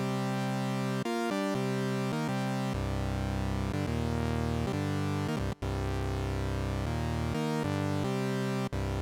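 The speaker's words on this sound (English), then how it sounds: "I like the ProMars plugin by Roland Cloud, and normally I just go for the very first preset, which will sound like this." Roland Cloud ProMars synth plugin on its first preset playing fifth chords for house music, thick buzzy sustained chord stabs that shift in a choppy rhythm, loud and alone, with a couple of brief dropouts.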